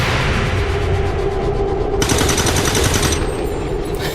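Rapid automatic gunfire in a video game, shots raking buildings in a continuous loud burst, with a second sharper weapon joining midway.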